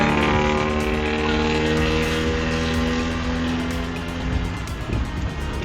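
A white rally car roars past close by, its engine loud and sustained with strong harmonic tones that sweep downward as it passes, then fade slightly toward the end.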